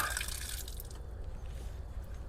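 Fresh water draining out of an RV's fresh tank through a valve left open, a continuous close gushing and dripping wash, loud at first then settling into a steady lower rush with no talk.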